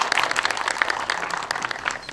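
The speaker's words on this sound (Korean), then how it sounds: "박수 부탁드립니다" Short burst of steady applause from an audience at a Korean virtual human industry association general meeting, a dense even clatter of many hands clapping at moderate distance, with no talk over it.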